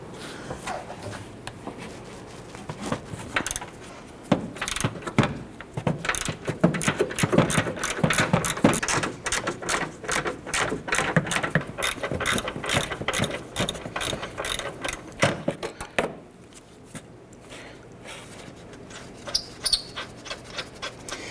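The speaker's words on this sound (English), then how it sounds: "Let's go ahead and use our socket and ratchet, loosen and remove these." A socket ratchet loosens 14mm strut nuts on the front strut of a 2009-2015 Honda Pilot, with rapid clicking in repeated bursts close by, then slower, sparser clicks as the nuts free up.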